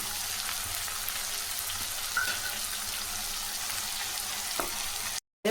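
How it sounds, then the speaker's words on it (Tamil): Green chillies sizzling in hot oil in a pan for roadside-style onion chutney, a steady dense crackle and hiss running throughout at close range, with a brief drop to silence near the end. "இந்த டைமில் மிளகாய் போட்டுங்க முதல்ல எண்ணெயில் போட்டிங்கன்னா தீ ஒரு மாதிரி கருகிடும்"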